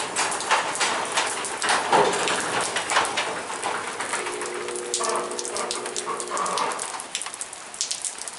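Steady rain falling outside, a continuous close hiss of drops on surfaces with scattered spatters and a faint tonal hum partway through, no talking.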